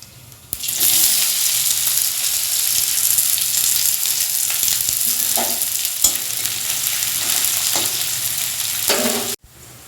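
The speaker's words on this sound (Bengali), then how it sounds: "জিরে ফোড়নটা দেওয়ার পরে এই পেঁয়াজগুলো এর মধ্যে দিয়ে দেবো।" Onions and cumin seeds fry in white oil in a wok, giving a steady loud sizzle that starts abruptly and runs unbroken for about nine seconds, with occasional stirring scrapes and no talking.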